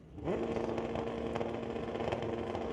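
A drag racing motorcycle engine roars to life at a drag race and holds a loud, steady rev, a harsh droning tone that stays strong throughout.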